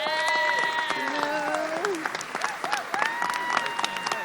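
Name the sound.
audience applause in the General Assembly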